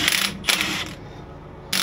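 Close, rapid ratchet clicking in quick bursts as drive line caps are loosened, separated by a brief quieter pause, with no speech.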